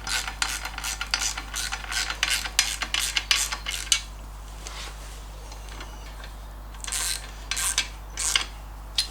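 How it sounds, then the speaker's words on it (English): Ratchet clicking in quick bursts while bolts are tightened evenly on an MGB during an engine and gearbox refit, close and moderately loud, with short pauses between runs of ticks and a steady low hum underneath. "I'm going to go round to start off with just the ratchet"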